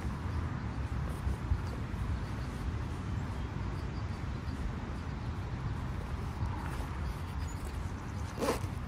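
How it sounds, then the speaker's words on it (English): A USMC Gen 3 plate carrier loaded with hard armor plates is zipped closed, a continuous rasping zipper pull running close and loud for several seconds, with a sharp scrape near the end. "And you zip it up."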